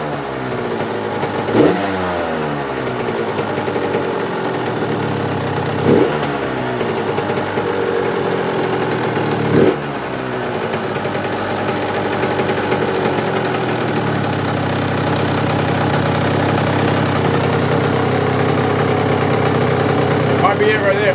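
A Suzuki RM85 dirt bike engine idles steadily with a low, throbbing drone, briefly blipped a few times before settling into a constant idle.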